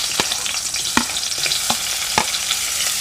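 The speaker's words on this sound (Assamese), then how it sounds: "সেই একেখিনি তেলতে মিহি মিহিকে কাটি লোৱা পিয়াজ এটা মই এটা দি দিছো।" Finely chopped onion frying in oil for an Assamese fish head and jackfruit seed curry, a constant bright sizzle broken by several sharp clicks of stirring against the pan.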